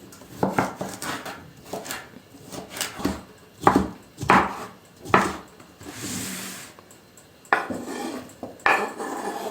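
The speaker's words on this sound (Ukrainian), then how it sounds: "Використовую пів огірка, нарізаю також маленькими кубиками." A knife dicing cucumber into small cubes on a wooden board in irregular bursts of quick taps, with occasional clinks and scraping, close and fairly loud, no voices.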